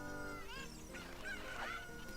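Cucco chicken from the video game Ocarina of Time clucking and squawking in a loud, continuous burst of honking bird calls over steady game background sound.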